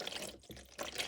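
Water poured over raw chicken gizzards in a bowl, a brief close splashing rush with a short gap in the middle, no voices.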